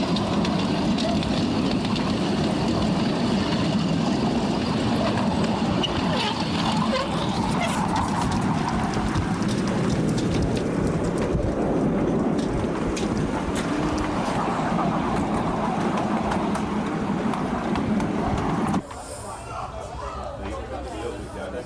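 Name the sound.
train running past the Holly Tree pub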